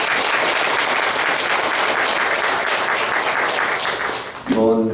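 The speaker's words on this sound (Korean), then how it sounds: "우리가 존귀와 영광의 박수를 부탁드리겠습니다." A congregation applauding at a worship service, loud sustained clapping from a large crowd, dense and steady, easing off near the end as a voice begins speaking over it.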